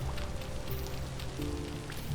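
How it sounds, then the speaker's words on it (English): Steady rain falls in the video game Vintage Story, a constant close patter on the ground that holds at an even level for two seconds with no voices. "It's raining right now, so, you know, nothing's gonna catch on fire in this weather."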